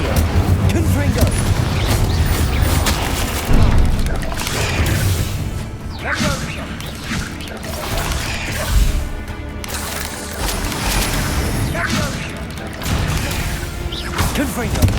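Repeated blasting spells, Confringo and Bombarda, from Hogwarts Legacy: a continuous barrage of crashes, booms and whooshes under shouted spell names.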